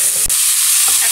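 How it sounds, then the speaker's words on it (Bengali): Cooked meat frying in oil in a pan and being stirred, a loud steady hiss of sizzling with one brief knock of the utensil, close and continuous throughout. "মাংসটা দিয়ে ভালো করে কষিয়ে নিচ্ছি।"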